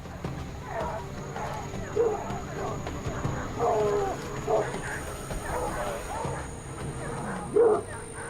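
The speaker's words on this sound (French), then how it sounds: "On fait intervenir les chiens une dernière fois" Tracking dogs bark in a forest during a jaguar search, with repeated sharp barks scattered through the clip under a voice that talks throughout.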